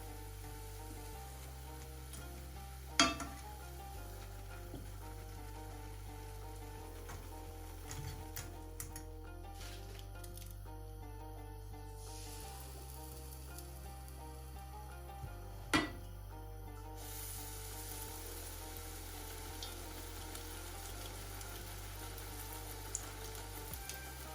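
Bangladeshi fuljhuri pitha fries in hot oil, giving a soft, continuous sizzle with occasional small ticks and pops under a low steady hum, heard alone without talk.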